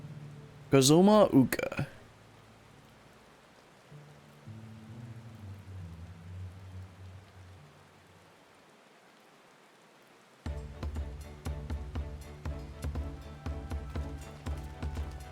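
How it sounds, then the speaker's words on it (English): Rain falls in Final Fantasy XIV Dawntrail along a marshy trail, a steady crackling patter that sets in near the end after a stretch of speech and soft music. "I think it's just bad luck to get the rain."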